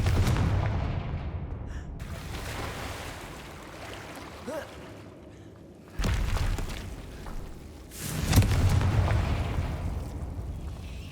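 Confringo explosion spells are cast in the Hogwarts Legacy video game, heard as heavy booming blasts with rumbling tails, one near the start and more around the six- and eight-second marks. They sit over a low background bed.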